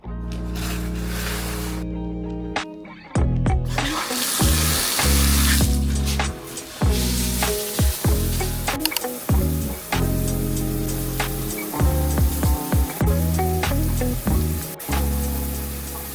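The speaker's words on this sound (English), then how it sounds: "let's hop in the shower." A shower runs with a steady spraying hiss of water that is briefly interrupted several times, while music plays along.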